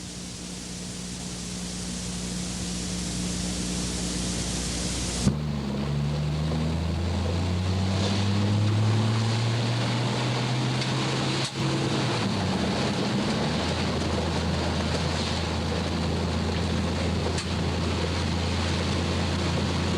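Hurricane Iwa winds on Kauai in November 1982, heard from a car driving from Koloa Town toward Poipu Beach, a loud, steady roar and rush of wind with a shifting engine drone and occasional thumps, with no talking.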